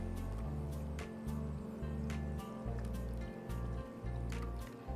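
Millet soup seasoned with salt and a pinch of turmeric is stirred, giving soft wet squishing and sloshing sounds that run steadily beneath a constant low background hum.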